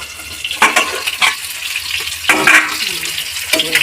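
Pabda fish fry in a pan, a loud bubbling sizzle punctuated by several bursts of stirring and spattering, close and continuous with no voices.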